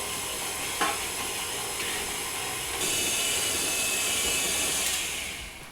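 Electric mixer whirring through creamed red velvet cake batter as eggs are beaten in, a steady broadband hum that swells louder midway and then tapers, close and continuous with no talking.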